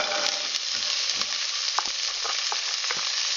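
Celery sizzles steadily in a pan for corn chowder, a close, constant hiss of frying broken by small pops and occasional scrapes of a utensil.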